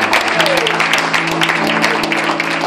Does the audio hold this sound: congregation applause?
yes